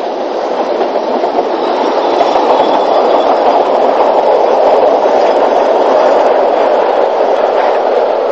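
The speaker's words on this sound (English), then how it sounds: "another shot of the train dropping down the grade, heading away from Tannybrook towards Port Manning" A 1960s narrow-gauge steam train drops down a grade from Tannybrook toward Port Manning. It makes a loud, continuous rumble with rhythmic clickety-clack of wheels over rail joints, holding steady for about eight seconds.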